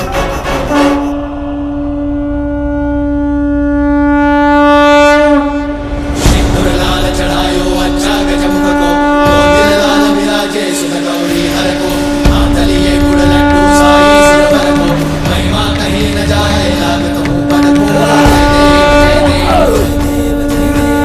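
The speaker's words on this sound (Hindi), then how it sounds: "नारायण के शंख की ध्वनि है," Narayana's divine conch sounds as a loud, sustained tonal blast in a mythological Hindu scene, holding steady for the whole stretch under swelling dramatic music and rumbling effects.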